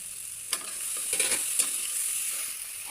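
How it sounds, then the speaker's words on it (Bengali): A simmering curry with potatoes gets stirred in a pan once the lid comes off, a constant bright sizzle with a few scraping and clinking strokes of the spoon near the start, close and moderately quiet. "ঢাকনা উঠিয়ে এখন নেড়ে নেব।"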